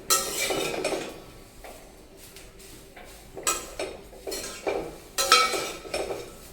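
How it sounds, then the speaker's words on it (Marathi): Chopped onion dry-roasting in a pan for a homemade masala, with a spatula scraping and clattering against the metal in irregular bursts over a faint background hiss. "तर अजून आपण 1-2 मिनिटं व्यवस्थित कांदा भाजून घेऊ."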